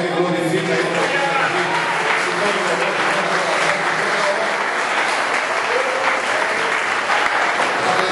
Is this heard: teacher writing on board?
no